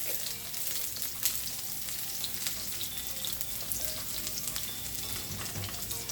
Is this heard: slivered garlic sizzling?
yes